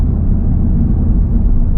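An Acura Integra Type S running low on fuel while stuck in traffic makes a steady, loud low-pitched rumble of engine and cabin noise, continuous throughout with no talking.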